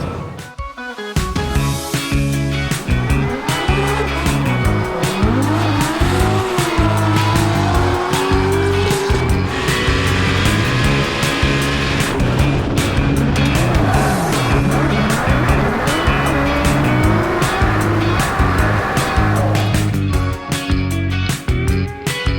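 Drift cars in a Formula Drift Pro Championship qualifying run at World Wide Technology Raceway, with tires squealing and skidding over a wailing, revving engine that swoops and surges loudly, close and continuous throughout.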